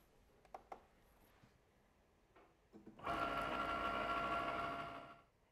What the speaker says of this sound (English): load the mat and press that flashing Cricut button